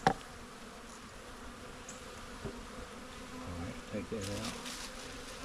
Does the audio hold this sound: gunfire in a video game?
no